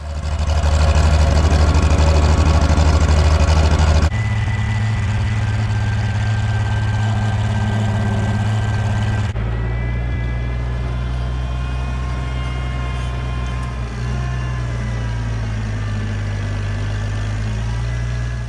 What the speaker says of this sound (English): driving past all these fancy houses with a tractor sputtering